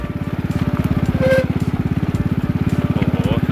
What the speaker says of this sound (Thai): ผมขี่มอเตอร์ไซค์มาครับเนี่ย